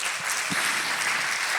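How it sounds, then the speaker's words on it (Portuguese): Congregation applause during a church sermon, a continuous even wash of many hands clapping, fairly loud and sustained without talk. "Você pode dar uma salva de palmas a Jesus por isso?"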